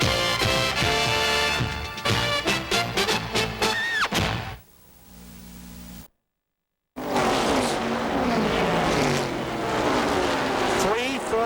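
Stock cars racing in the 1981 Daytona 500, a loud roar of engines passing close with rising and falling pitch, a brief quieter stretch and a dropout, then the pack roars again, under an announcer's commentary.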